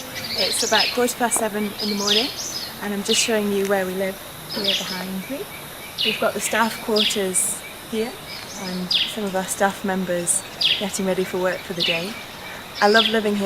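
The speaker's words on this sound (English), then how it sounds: "You can hear the sound of water in the background and birds." Morning birdsong near a forest by staff quarters at Bwindi Community Hospital in Uganda, with scattered chirps and tweets heard faintly under someone talking steadily throughout.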